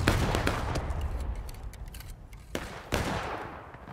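Musket volley fire in the Civil War video game War of Rights: several sharp, crackling shots burst out, with a heavy volley at the start and another near the end, echoing over a noisy battlefield.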